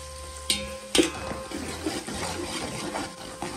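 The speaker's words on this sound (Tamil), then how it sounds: "ஆனியனை நல்லா ப்ரௌன் கலரில் வர வரைக்கும் நல்லா வதக்கி எடுத்துக்கோங்க." Sliced onions fry in about 200 ml of cooking oil for Hyderabadi chicken dum biryani, giving a steady close sizzle with stirring scrapes and a couple of sharp utensil knocks near the start.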